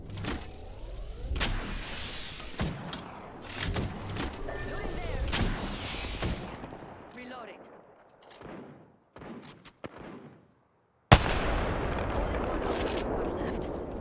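Gunfire in Apex Legends crackles in irregular bursts of sharp shots over a busy backdrop, fades to near silence, then returns as a sudden loud blast followed by dense sustained firing.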